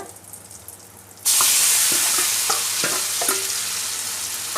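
Ground coriander paste for kothamali thokku hits hot oil with tempered mustard seeds and asafoetida, bursting into a loud, steady close sizzle after a quiet start, with scattered scraping clicks of a spoon stirring the pan.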